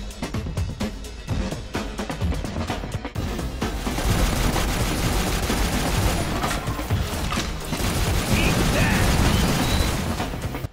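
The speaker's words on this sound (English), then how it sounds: "Okay, so pile driver machine gun, we see the gameplay." Pile Driver machine gun firing in the Shadowgun Legends video game, rapid dense bursts of gunfire with mechanical clatter running loud and continuous throughout, with no voices.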